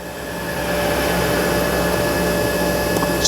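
A Kitamura Mycenter HX1000i horizontal machining center spindle, with a 4-speed gearbox, runs at 4,000 RPM, giving a steady, even whir with constant high whine tones that holds level throughout.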